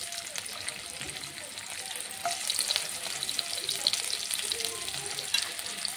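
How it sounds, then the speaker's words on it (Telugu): Onions, ginger and garlic frying in hot oil in a pan for paneer masala, giving a steady, close crackling sizzle with brief faint stirring. "ఉల్లిపాయలు ఇవన్నీ 1 బై 1 ఫ్రై చేద్దాం"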